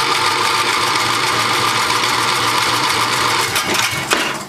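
Briggs and Stratton engine on a Terra Jet being cranked to start, a loud, steady, close mechanical churning roar with rattling throughout and a couple of faint knocks near the end.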